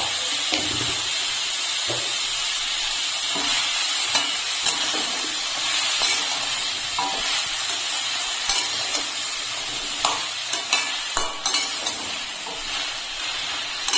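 Vegetables frying in a pan with salt and turmeric for a chal kumro (ash gourd) shukto, stirred with irregular scrapes and clacks over a steady hiss and sizzle, close by and without speech.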